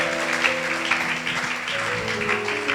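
A church congregation claps and cheers together in acclaim of Jesus during a French-language sermon, a steady wash of applause and voices holding at an even level throughout.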